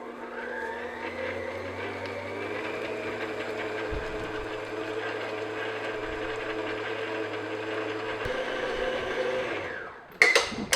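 An electric mixer beats cheesecake batter at medium speed, a steady close whirring drone with a constant pitch for about ten seconds before it switches off with a clatter.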